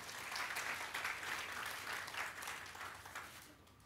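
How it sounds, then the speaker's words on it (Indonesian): A church congregation claps for Jesus during a sermon, a dense, lively round of applause that tapers off near the end, heard at a low level with faint voices. "Beri tepuk tangan buat Tuhan Yesus dulu."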